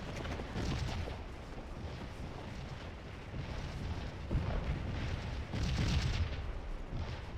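Black powder artillery fires across a battlefield in Scourge of War, with repeated deep booms and rumbling discharges rolling at uneven intervals, some nearer and louder than others.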